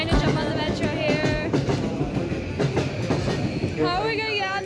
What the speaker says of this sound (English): Trying to jump on the metro here.